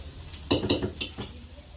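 Roasted chickpeas being fried in a pan for chutney in a tiffin centre kitchen, with a few close metallic scrapes and clinks of a spoon stirring against the pan.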